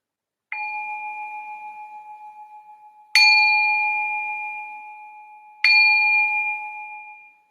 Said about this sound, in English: I'm going to ring the bell to signal the start of this meditation session